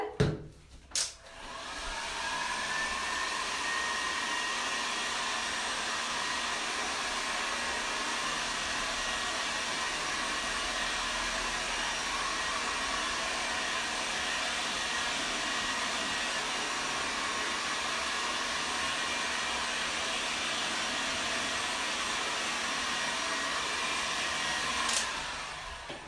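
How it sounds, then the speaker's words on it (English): A hairdryer blows steadily over a wet Easter bunny painting, a loud continuous whirring rush that runs unbroken for about twenty-four seconds with no talk over it. "quick blast with the hairdryer then"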